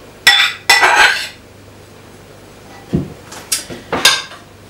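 Chunks of beef are tipped into a bowl of Cornish pasty ingredients, making two sharp clattering knocks followed by several lighter clinks of a utensil against the bowl.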